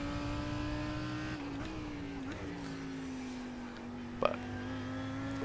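Race car engine in the iRacing sim at Daytona, a fairly faint steady droning whine with slight pitch shifts as the throttle comes on exiting a corner.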